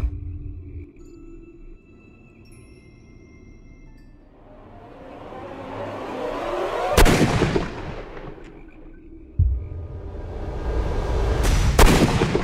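Gunfire in the Sherlock Holmes Crimes and Punishments video game: two sharp, loud shots several seconds apart, each cutting through a swelling rumble of a moving train, with no talk.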